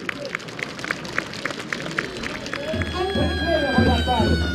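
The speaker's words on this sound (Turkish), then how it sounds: "Alkışlıyoruz." Crowd applause at the Çorum oil wrestling event in 2013, with rhythmic clapping at first, then a swelling outdoor crowd roar and babble, while an announcer's amplified voice carries over the top.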